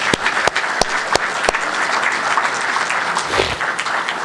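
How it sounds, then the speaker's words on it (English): Applause from an audience at the 2023 Alfred University Athletics Hall of Fame ceremony, a loud wash of clapping with several sharp, close individual claps standing out in the first second and a half. "So if we can give them a round of applause."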